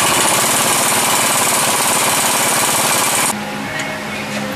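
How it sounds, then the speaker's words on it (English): An impact wrench hammers loudly and rapidly to remove a pinion nut from a rear axle yoke, then stops abruptly, leaving a quieter background hum. "The pinion nut comes off from the yoke."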